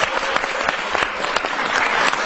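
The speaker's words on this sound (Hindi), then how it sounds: "तालियां बजाएं" School program audience of children claps steadily and fairly loudly, a continuous busy patter of many small hands without a break.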